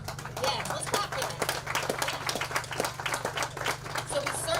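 Scattered clapping from residents at a community launch event for a residential street sweeping program, moderate and steady over a constant low hum, with some talk mixed in.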